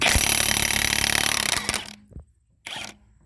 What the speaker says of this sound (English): 1 5/16 socket on an impact gun. See if we can break these loose.